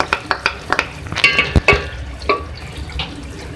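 A spoon stirs spicy chicken with green chillies and fresh coriander in a pan, giving quick scraping and clacking strokes in an uneven rhythm over a soft wet sizzle.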